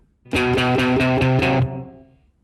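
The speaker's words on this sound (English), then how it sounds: "it's clean, a bit punchier, a punchy clean, with a tiny bit of reverb" A clean electric guitar plays a punchy riff of five even repeated chords, then rings out with a short, light reverb tail.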